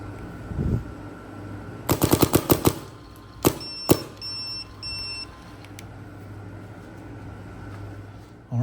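A Method Engineering Anechoic RAM paintball marker fires two quick rapid bursts of close, sharp pops, then a few single shots with faint electronic beeps, over a low background hum.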